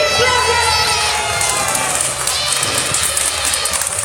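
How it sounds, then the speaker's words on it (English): An audience at a children's storytelling competition in Malaysia claps and cheers in a loud, steady roar of crowd noise, with shouting voices mixed in throughout. "Give me a big clap!"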